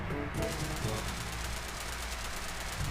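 Continuous automatic gunfire from a weapon fired while lying prone in the Sausage Man video game, a dense, steady burst sustained loudly through the whole span with no talking.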